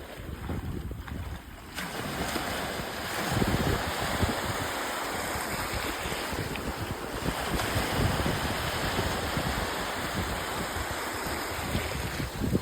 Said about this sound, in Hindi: और अभी हम लोग समुद्र में हैं और ये सारी लहरें